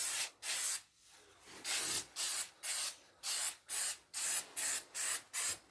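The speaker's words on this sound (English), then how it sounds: "Now we're going to spray down off this soft line to give it a really soft line so it's just like factory." Paint is sprayed onto a Ford F-150 fender during an at-home body repair, with about ten loud, close hissing spray-gun bursts, each roughly a third of a second long, separated by brief pauses.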